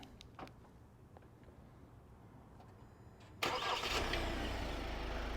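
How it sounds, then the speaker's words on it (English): A Kia Tasman X Pro ute started remotely by key fob: a few faint clicks and near-silence, then the engine abruptly fires up and settles into a steady, fairly loud idle heard close by. "you might have heard the engine start up"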